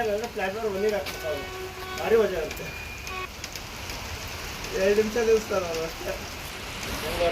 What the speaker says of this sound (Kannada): ನೋಡ್ರಿ, ಇಲ್ಲಿ ಮಳೆ ಬೀಳ್ತಾ ಇದೆ.